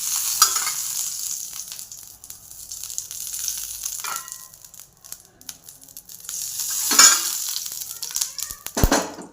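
Dhapate flatbread frying in plenty of oil on a griddle, soft intermittent sizzling with scraping and stirring bursts, fairly quiet and close, with no talking.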